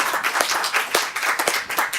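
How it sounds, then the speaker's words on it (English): Sparse applause from a small audience, with individual hand claps audible in an uneven, moderately loud rhythm throughout. "let's give all those people a round of applause"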